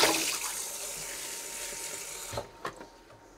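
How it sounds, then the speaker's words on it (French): Cold tap water running to refill a container for steaming a vegetable terrine, a steady broadband rush that fades out, followed by a couple of short clunks as the flow stops. "Donc j'ai changé l'eau hein, pour avoir de nouveau de l'eau froide"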